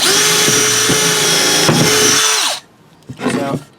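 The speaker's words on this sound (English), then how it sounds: "I'm going to go ahead and drill holes here for my screws so that I don't split this board" A power drill bores screw pilot holes into a wooden board, a loud steady motor whine for about two and a half seconds, then a brief second burst after a pause.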